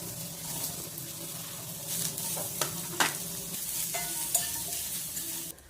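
Onions fry in a hot kadai for a home-style chicken curry with a steady, close sizzle, punctuated by a few distinct clinks and scrapes of a spoon stirring them.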